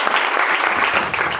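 A room full of students at a coaching class breaks into applause for a classmate, a dense, steady burst of clapping lasting just over a second.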